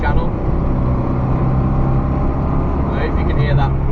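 Austin A40 Farina classic car, lowered on aluminium blocks, droning loudly and steadily from inside the cabin while driving, a rough continuous engine roar with no breaks.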